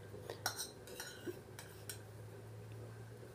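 A metal spoon stirs yogurt into a spice masala for a Marwari vegetable dish, giving soft, sparse clinks and scrapes against the pot over a low steady hum.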